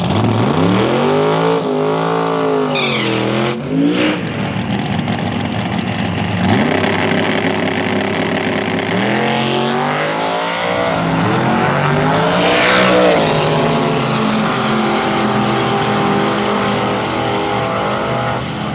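A Big Block Nova drag race car engine roars and revs hard at the NO MERCY 15 event, pitch climbing through repeated gear sweeps as it accelerates down the strip, loud and sustained.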